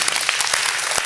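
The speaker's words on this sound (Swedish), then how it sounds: "Så välkomna henne med en applåd." An audience at a startup event applauds to welcome a speaker, a dense, even patter of many hands clapping close by throughout the short burst.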